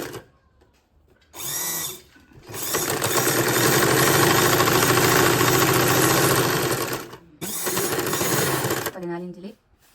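A sewing machine stitching kurti panel pieces runs in a long continuous whirring burst, preceded and followed by shorter runs with brief pauses, close and fairly loud.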